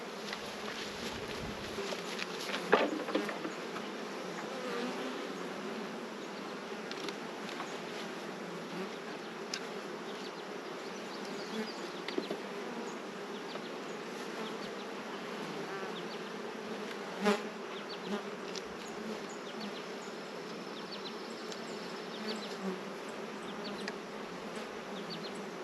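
Honey bees drone steadily around an open hive during a honey harvest, a dense continuous buzz with occasional individual bees passing close to the microphone.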